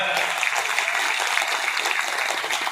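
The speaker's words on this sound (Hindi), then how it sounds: "उनके लिए जोरदार ताली पे आपसे चाहूंगा" Loud, steady applause from a school audience at an annual day celebration in Muri, dense continuous clapping throughout with no break.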